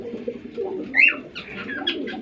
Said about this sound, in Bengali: হাই ফ্লাওয়ার একটা গ্রিবাস কবুতর